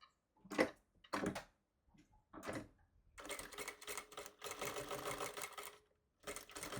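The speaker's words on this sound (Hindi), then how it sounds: "यहाँ से सिलाई करते हैं" A sewing machine stitches a jumbo travel bag in short bursts, with several quick runs followed by longer steady whirring passages and brief pauses between them, close and fairly quiet.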